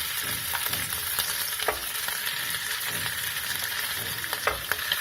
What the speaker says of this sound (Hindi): घी में जब फ्यूम्स आने लगेंगे तब हम इसमें आलू जो हमने ग्रेट करके रखे हैं इसको हम मिक्स कर देंगे।